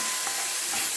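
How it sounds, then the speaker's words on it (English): Runner bean curry with tomatoes being stirred in a pan, giving a steady, dense sizzle and hiss of frying with faint scraping of the spoon and no voices. "Just keep stirring it."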